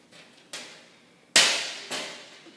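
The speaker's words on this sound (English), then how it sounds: "When you take the cover off, you want to pull up the bottom and lift very carefully and pull it away." Metal cover of a GE electrical panel box pulled free, giving a few sharp metallic clanks and bangs at uneven intervals, the loudest near the middle, close by with no talk.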